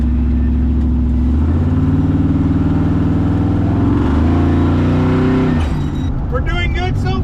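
An LS-swapped rat rod's V8 engine drones loudly under hard acceleration, with a deep, harmonically rich note whose pitch steps upward, then eases off into a lighter idle while squeaky higher sounds come in at the end.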